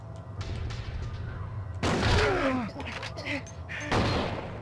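Gunshots in the game Silent Hill 2, a few loud sharp blasts with ringing tails that rise suddenly out of a low rumbling background, with a voice briefly audible between them.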